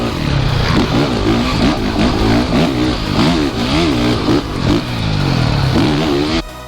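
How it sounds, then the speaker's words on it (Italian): A 2017 Honda CRF 450 motocross bike revs hard on a track, its engine climbing and falling in repeated surges of loud, close acceleration that cuts off abruptly at the end. "Si entra in pista con CRF 450 2017"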